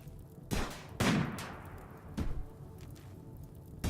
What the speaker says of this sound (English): And they see Athena. And they shoot at her.